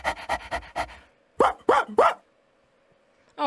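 A golden retriever pants rapidly, then lets out three sharp, close barks in quick succession before falling quiet.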